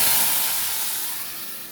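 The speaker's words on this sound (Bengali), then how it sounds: "এখন আমি এটাতে বাগার দেবো।" Hot oil tempering with garlic and dried red chili hits the dish in a loud, close, broad hiss that slowly fades over a couple of seconds.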